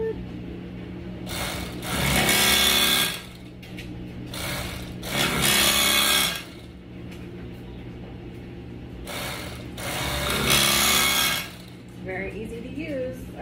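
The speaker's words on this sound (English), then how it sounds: "I'm gonna cut some pork for the first time with my new electric knife." Mueller Ultra-Carver electric knife cutting through pork, its motorized buzz running in three loud bursts separated by quieter pauses, close up with a steady low hum underneath.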